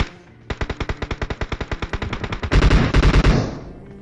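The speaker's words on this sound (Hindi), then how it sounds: "अब यहाँ पे एक बंदा फायरिंग कर रहा था M7 से" Rapid automatic gunfire from an M7 rifle in the PUBG Mobile battle royale game, about twenty evenly spaced loud shots, then a denser, heavier burst of overlapping fire near the end, with no talking.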